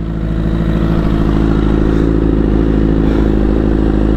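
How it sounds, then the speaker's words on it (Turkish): A motorcycle runs with a faulty fuel pump, its engine a loud, steady, close drone with a rough clattering pulse throughout and no speech. "Motorun benzin pompası arızalıyken arkadaşlar böyle gidiyor."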